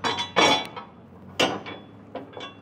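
Metal bolts being pulled through hitch brackets on the frame rail of a 2019 Ford F-series truck, with a few sharp metallic clanks and scrapes, close and intermittent, with quiet gaps between them.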